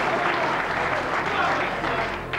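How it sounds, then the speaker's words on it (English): Snooker crowd applauding a shot at the 1997 World Championship, a dense steady roar of clapping that fades slightly toward the end, with some voice mixed in. "What a wonderful, wonderful shot. Deserving all that applause."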